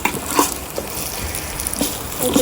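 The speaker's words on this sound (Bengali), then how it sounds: "আগে থেকে পেস্ট করা মশলা ভালো করে নাড়াচাড়া করতে হবে" Pre-made spice paste for haleem is stirred in a hot pot, with steady sizzling and frying. A few soft scrapes and clinks of the spoon sound close by, and no voices are heard.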